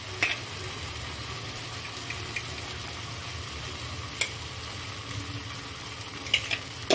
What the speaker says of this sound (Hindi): अब मैं चावल, दाल और सारे मसाले को अच्छे से फ्राई कर लूंगी 5 मिनट तक